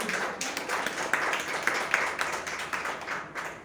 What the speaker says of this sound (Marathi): त्यांच्यासाठी एकदा जोरदार टाळ्या वाजूया